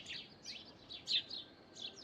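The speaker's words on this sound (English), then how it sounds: "You still see some few birds." Small birds chirp in short, bright bursts on a residential street in Tanzania, several faint calls spaced over a couple of seconds with one louder chirp near the middle, over quiet background hiss.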